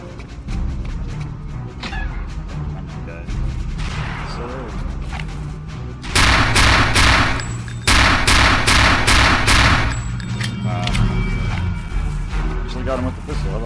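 Gunfire in Return to Castle Wolfenstein, with pistol shots going off in a loud, dense burst of repeated cracks over a busy game soundscape, the heaviest volley lasting a couple of seconds midway.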